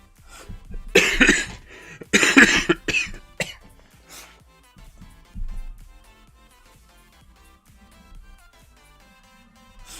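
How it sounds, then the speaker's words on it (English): Two loud, harsh coughs close by, then quieter throat noises and faint background sounds. "Stupid cough's driving me crazy."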